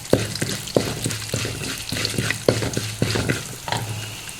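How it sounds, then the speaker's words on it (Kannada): Urad dal frying in hot oil with chillies and curry leaves, a loud close sizzle punctuated by a rapid series of sharp spoon-stirring clacks against the pan. "ಈಗ ಸ್ವಲ್ಪ ಉದ್ದಿನ ಬೇಳೆ ಹಾಕ್ತಿದ್ದೇನೆ 1 ಚಮಚ. ಅದು ಸ್ವಲ್ಪ ಫ್ರೈ ಮಾಡ್ಕೊಳ್ಳಿ."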